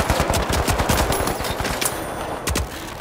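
Rapid automatic gunfire in the shooter The Finals, a loud close stream of cracking shots in quick bursts with distant shots mixed in.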